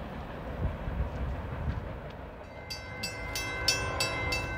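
A northbound Norfolk Southern freight train rolls past at Walton, Kentucky with a continuous rumble, and a series of sharp metallic squeals and clanks from the wheels rises toward the end.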